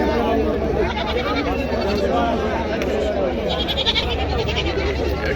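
Goats brought for sale at a weekly rural market bleat through dense crowd chatter and people talking nearby, a busy, loud mix of animals and voices.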